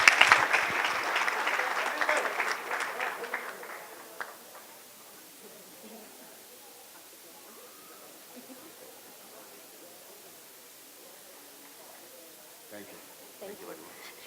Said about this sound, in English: Can we have a round of applause for this hardworking man?